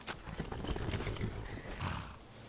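A horse in a video game is heard faintly, with soft hoof clops and a low snort or whinny against a muffled background.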